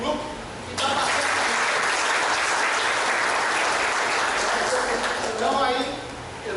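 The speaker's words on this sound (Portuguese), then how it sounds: "Então, uma salva de palmas de grupo que está bastante." An audience at a seminar in Tombos, Minas Gerais breaks into sustained, loud applause: dense clapping starts abruptly, holds steady for several seconds and eases slightly at the end, with voices mixed in.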